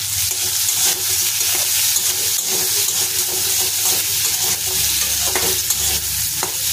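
Paneer cubes fry with salt and turmeric for chilli paneer, a loud continuous hissing sizzle over a low steady hum, with scattered stirring clicks and no voices.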